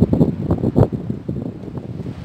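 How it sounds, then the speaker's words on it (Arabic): Strong wind blowing outdoors on a rainy day, gusty buffeting roar across the microphone in uneven surges, loud and close with no voices. "كاين الريح بزاف."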